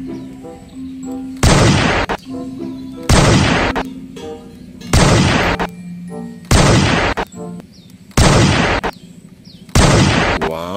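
Six loud electronic gunshot blasts from a toy sniper rifle fire at regular intervals, each followed by a brief pause filled with a soft electronic hum.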